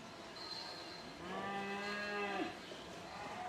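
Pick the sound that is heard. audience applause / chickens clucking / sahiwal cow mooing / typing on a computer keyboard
sahiwal cow mooing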